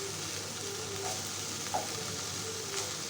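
Tangra fish fry in a little oil, a steady close sizzle hissing without break, with a few faint pops and soft stirring touches, no voices.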